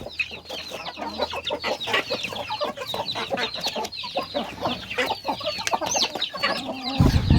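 Young Siamo Mix roosters and hens, about four to five months old, cluck and call constantly in a farm flock, many birds overlapping close by with a steady chattering rhythm.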